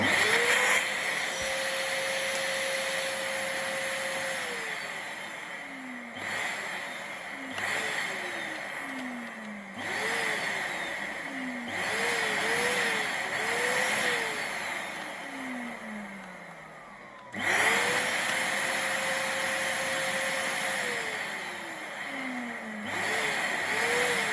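A Henry HVR200 vacuum cleaner with a faulty push-on push-off switch repeatedly whines up to a steady motor drone and then winds down. The cycles of starting and stopping sound close and loud with no talking.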